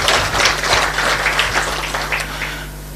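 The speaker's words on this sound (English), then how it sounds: "A clap for her." Audience applause at a Pan-African green climate financing conference, a steady wash of many hands clapping at moderate level for about three seconds, tapering slightly near the end, with no voices over it.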